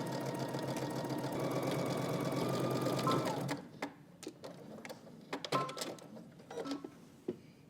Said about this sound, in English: We're gonna stitch our collar down using 5/8 of an inch seam allowance.